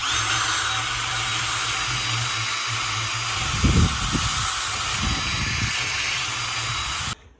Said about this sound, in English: we're just going to take a wire brush on our drill